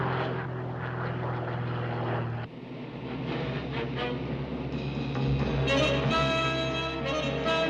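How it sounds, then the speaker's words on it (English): A light aircraft's propeller engine drones steadily and grows louder as the plane approaches, with a sharp cut partway through, then the engine tone rises and sharpens as it draws nearer. "It's definitely a light aircraft. And getting closer, too."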